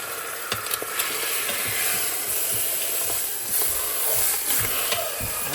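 A freshly flipped piece of food sizzles in a pan, with a continuous bright crackle broken by a few sharp clicks and taps of the utensil, close and fairly loud.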